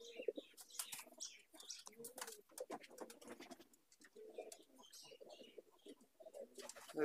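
A released Andhra pigeon beats its wings in repeated flapping bursts, with pigeon coos and chirps mixed in, while people talk faintly in the background.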